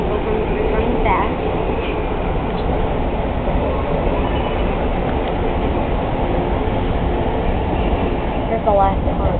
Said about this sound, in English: here we are on the rebuilt M3 train